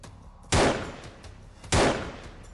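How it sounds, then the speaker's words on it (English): Two loud, sharp gunshots crack out about a second apart, each with a short decaying tail, as a man fires at a minivan; no voices accompany them. "The man then starts shooting at the vehicle."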